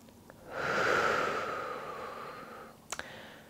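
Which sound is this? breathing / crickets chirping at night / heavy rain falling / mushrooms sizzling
breathing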